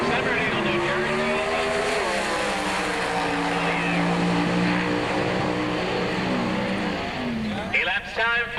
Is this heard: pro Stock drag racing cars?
yes